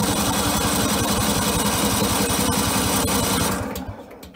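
The engine of a 1997 Simplicity Coronet lawn tractor runs after a cold start with a rapid, steady chugging, close and loud, before suddenly dying away near the end.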